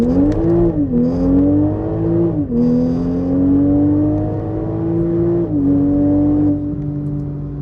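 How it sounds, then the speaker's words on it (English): A Toyota A90 Supra accelerates at full throttle, its engine pitch climbing steadily and dropping sharply at each of three gear shifts, loud, close and sustained from the cabin. "go through the gears here and just notice even at full throttle, the engagement is the same through all the gears"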